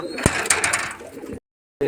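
Pigeons cooing close by in a short burst with fluttery, breathy calls, then a sudden silence before the sound resumes.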